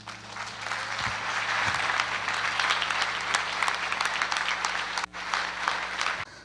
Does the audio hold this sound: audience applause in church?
yes